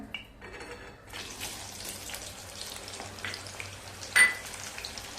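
Carrot and potato pieces deep frying in oil for a vegetable dum biryani, a soft, steady bubbling sizzle heard close up, broken by one brief clatter near the end.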